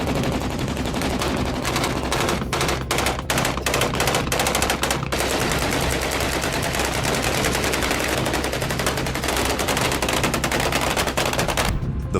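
Machine guns fire in a battle ambush: loud, sustained automatic bursts with rapid rattling shots that run almost without pause for the whole stretch, dense and close.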